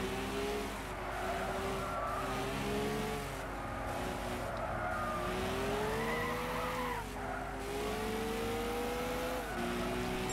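Gran Turismo 6 race cars, Bugattis and a Lamborghini Aventador, droning engines rising and falling in pitch through gear shifts with a faint tire squeal, steady and continuous with no talk.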